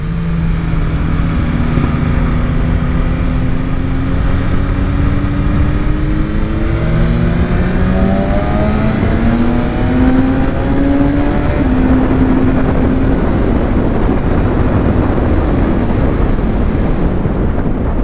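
Motorcycle lapping a race circuit on a track day, engine whine rising and falling through gear changes with strong wind rush over the microphone, loud and continuous with no talk.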